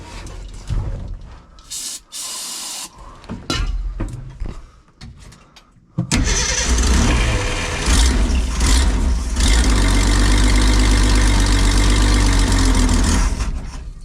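1956 Ford Econoline engine, a field-find vehicle, first heard as scattered clunks and brief bursts, then catching at about six seconds into a loud, steady close-up idle with a rough low rumble that runs to the end.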